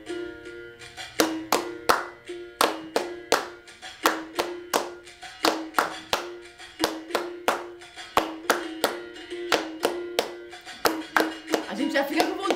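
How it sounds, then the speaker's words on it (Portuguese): Hand claps keeping time to a berimbau rhythm in a fourth-grade physical education class, crisp, close, evenly spaced claps in a repeating pattern lasting the whole stretch, with no talking. "E a gente vai seguindo o ritmo do berimbau com as palmas."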